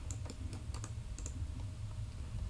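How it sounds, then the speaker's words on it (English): Several quick keystrokes on a computer keyboard as a measurement is typed into SketchUp, sparse clicks over a steady low background hum. "type it on your keyboard again, 150"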